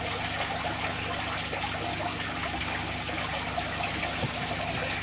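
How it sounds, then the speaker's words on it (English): Water trickles and splashes steadily out of a homemade shrimp tank filter, tumbling over the top with a soft continuous babble against a low background hum. "It's just tumbling the top of that water away lovely there."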